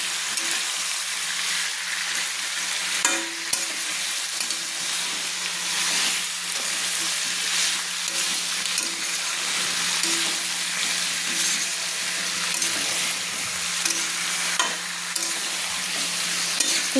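Chicken curry with spices fried and stirred in a pan, a loud continuous sizzle and hiss running throughout, with occasional scraping and knocks of the utensil, close up and without talk.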